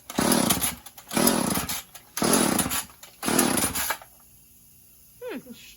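A Stihl or Husqvarna chainsaw sputters and roars in four loud, roughly one-second bursts as it is pulled and briefly fires, then cuts out to near silence with a faint brief sound at the end.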